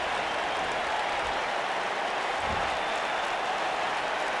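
Arena crowd in a WWE 2K19 wrestling match between Sasha Banks and Alexa Bliss, a steady wall of cheering and applause holding at an even level throughout, with no voices standing out.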